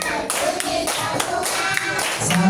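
Children at a Quran learning class clap in a rhythmic sequence of sharp, separate claps, with a sing-along voice running under them.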